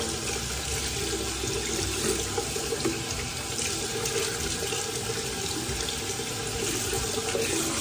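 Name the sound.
rinsing and rubbing paintbrushes under running water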